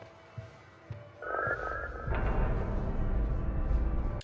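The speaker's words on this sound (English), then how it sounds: "Why does Rob Zombie's version of Carpenter's jump scare synth popper sound like a quail" A jump-scare synth stinger from Rob Zombie's Halloween film: a sudden warbling, croaky electronic chirp that swells into a loud, rumbling low sting and sustains under ambient film sound.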